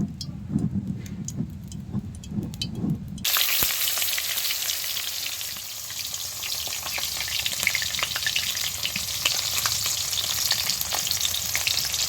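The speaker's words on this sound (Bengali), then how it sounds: "আলুগুলো ভাজা হয়ে গেছে, এর মধ্যে এবার মাছগুলো ভেজে নেব ভালো করে" Potatoes sizzle and crackle steadily as they fry in hot oil in a pan for village-style cooking, a dense continuous hiss that swells sharply after a brief quieter stretch, with occasional stirring clicks and no talk.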